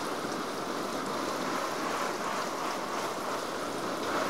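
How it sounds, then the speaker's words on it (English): Water pours from a hose or watering can onto freshly planted seedling trays of soil, a steady, even hiss of spray and splashing that holds at moderate level without pause. "We'll water these in pretty good here."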